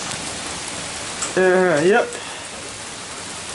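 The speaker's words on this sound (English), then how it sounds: "Still raining outside, huh?" Steady rain falls outside, a soft, even hiss throughout, while a voice briefly speaks near the middle.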